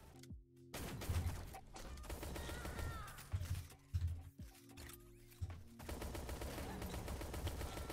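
Buck pistol fire in the online egg shooter game Shell Shockers, sharp shots and bursts of rapid gunfire in quick succession amid game music and effects, with a brief quieter gap midway.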